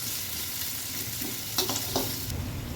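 Chopped onions sizzle steadily in a pan over a medium gas flame, with a few brief scraping stirs near the end and no voices.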